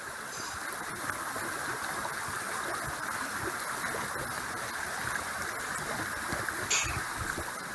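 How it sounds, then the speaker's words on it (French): A natural stream in the Oise countryside flows steadily, a continuous broadband rush and gurgle of water that holds an even level throughout, with no voices over it. "toujours un bruit d'eau au milieu de la nature"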